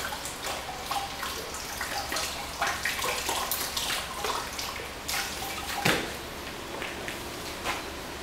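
Pottery glaze is poured over a pot on a banding wheel, a soft continuous liquid splashing and trickling with small irregular spatters and drips, fairly quiet and close.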